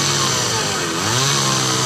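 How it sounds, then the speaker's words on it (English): A chainsaw runs at a steady high-revving snarl, loud and close, holding one even pitch with a slight wobble, no voices over it. "You wouldn't operate a chainsaw blindfolded."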